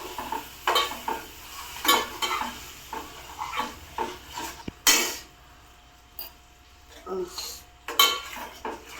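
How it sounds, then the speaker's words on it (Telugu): Tomatoes with garam masala and ground coriander are stirred in a pan, with a series of irregular metallic scrapes and clanks of a spoon against the pot over a faint sizzle, close by, separated by short quiet gaps. "ఇప్పుడు టమాటా అన్నీ టమోటా వేసుకుని బాగా కలపాలి."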